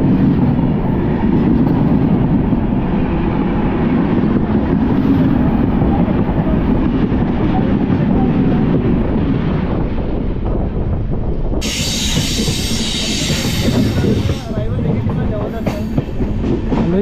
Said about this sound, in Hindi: हजूर साहब अमृतसर वाली ट्रेन है जी, देखो अपनी ट्रेन नू क्रॉस कर रही है।